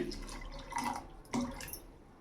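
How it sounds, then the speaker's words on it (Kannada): A short pour of water into a mixer jar holding fruit for juice, with two brief splashing surges, close and moderately quiet, no talking. "ನಾನೀಗ ಸದ್ಯಕ್ಕೆ ನೀರು ಹಾಕ್ತಾಯಿದ್ದೀನಿ"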